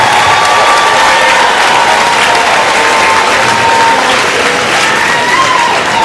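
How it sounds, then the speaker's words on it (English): Loud, sustained applause from a large crowd at a university commencement ceremony, dense continuous clapping with some cheering mixed in. "Let's give Dr. George another round of applause"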